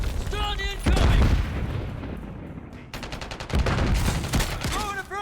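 Call of Duty MW3 game gunfire: loud bursts of automatic fire and heavy booms in two close-range volleys separated by a brief lull, with short in-game radio voice callouts around them.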